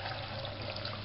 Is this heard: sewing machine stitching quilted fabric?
no